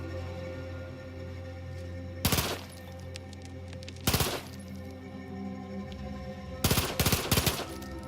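Machine pistol firing in The Outer Worlds 2, three separate bursts of rapid shots, loud and close, with the last burst longer, over a steady hum of game ambience.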